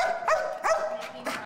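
A dog at an animal shelter gives four quick, high, yelping barks in close succession, near and clear, with a whiny tone.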